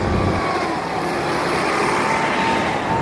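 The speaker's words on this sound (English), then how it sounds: "And there goes our bus." A city bus pulls away along a Santa Barbara street, its engine a steady broadband rumble with road noise, fairly close and continuous without any talk.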